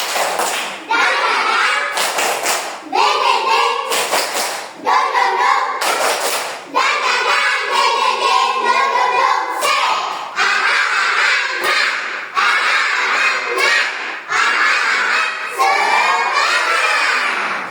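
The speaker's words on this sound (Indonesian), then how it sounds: "Tepuk semangat" A classroom of children performs a rhythmic spirit clap, bursts of group clapping and chanting voices in a repeating pattern with sharp thuds between phrases, loud and close.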